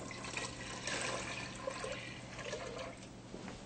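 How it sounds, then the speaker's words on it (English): Lemon juice poured into a sugar mixture for homemade limoncello, a steady liquid trickle and splash running continuously at moderate level, close by, with no talking. "Pour it right in there."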